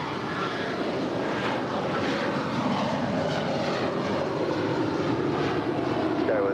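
A Boeing 757-300 jet rolls down runway 25 right at LAX, producing a steady broad engine roar heard from a distance and holding level throughout, with faint voices underneath.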